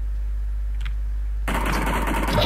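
Automatic gunfire from a PUBG match cuts in abruptly after a quiet start, a loud, rapid continuous burst of shots that fills the second half of the clip over a steady low hum.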